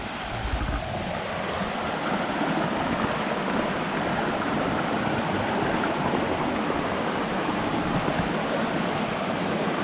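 A stream rushes and gurgles continuously nearby along a trail to Tat Mok waterfall in Phetchabun, Thailand, a full, steady wash of flowing water with no voices.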